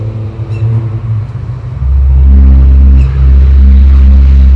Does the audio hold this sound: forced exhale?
no